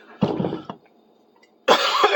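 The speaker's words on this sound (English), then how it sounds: "coughing really hurts if you're standing up" A person with a bad back coughs while standing in a workshop during inner-tube patching: two close, harsh bursts of coughing separated by a short quiet gap, heard alone.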